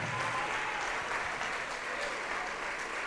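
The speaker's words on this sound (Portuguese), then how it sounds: "Então vem e vamos aplaudir ao Senhor Jesus por cada vida que está chegando." A church congregation applauds during a worship service, a soft, even wash of clapping from a sizable crowd that stays steady and somewhat distant throughout.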